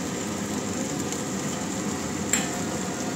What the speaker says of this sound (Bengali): সবজিগুলো সবার আগে ভেজে নিচ্ছি। ভাজা হয়ে গেছে, এবার পেঁয়াজটা দিয়ে দিচ্ছি